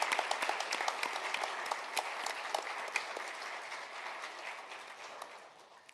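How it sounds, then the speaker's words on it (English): Applause from an audience at a student awards concert, a continuous crackle of many hands clapping at moderate loudness, with sharper individual claps standing out and the sound fading slightly toward the end. "we send you a rousing round of applause"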